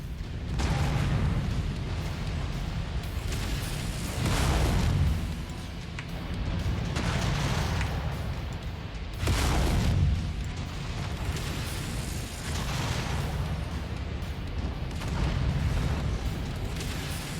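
Weapon fire and explosions in the mech combat video game MechWarrior 5 land as a run of loud, broad booms and blasts every few seconds over a constant rumbling bed.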